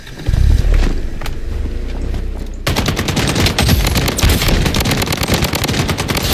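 An RPK machine gun fires in the shooter game Blood Strike, loud, fast automatic bursts that turn into a sustained, dense stream of shots in the second half, with no talk over it.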